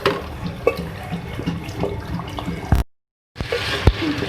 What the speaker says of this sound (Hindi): 3 कप मैंने पानी इसमें ऐड किया है